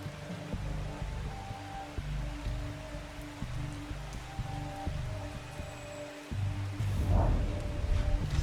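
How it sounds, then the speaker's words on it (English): Gentle flowing water ambience in the game Strange Horticulture, a soft continuous trickle and patter under faint tonal music, swelling slightly louder near the end. "A gentle sound of flowing water."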